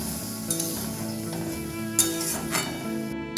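Fish curry stirred in a pan with added water, a soft continuous bubbling simmer broken by a few sharp clinks and scrapes of the spoon against the pan.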